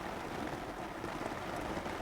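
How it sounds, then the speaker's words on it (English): Steady broadband rain pattering in the Hunter: Call of the Wild video game, played during a snowy Yukon hunt, a constant even hiss with no voices. "It's the rain sound, but it's snowing."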